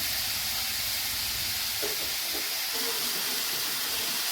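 Bitter gourd pieces fry in oil in a pan, giving a steady loud hiss and sizzle throughout, with a few faint scraping or clinking touches near the middle.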